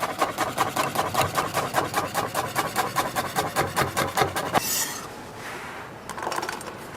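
A kitchen knife slices an onion into thin rings on a cutting board for fish soup: a quick, steady series of rasping strokes, close and even in rhythm, then a brief scrape and quieter handling noises.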